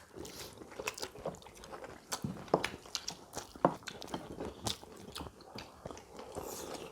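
Crunchy bites and chewing on sweet-persimmon radish kimchi (kkakdugi) during a Korean bulgogi hot pot meal, several sharp close crunches spread over the stretch with softer chewing between them.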